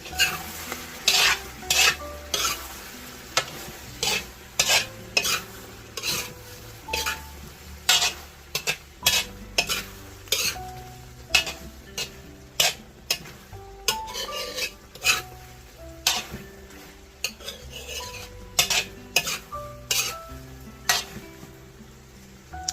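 Fish curry is stirred in a sizzling pan, with a spoon scraping and knocking against the metal in an uneven rhythm over a soft frying hiss, close up and with no talk.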